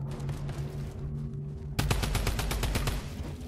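A rapid run of gunfire in Fortnite breaks out midway, sharp evenly spaced shots in quick succession over a steady background of game noise and hum.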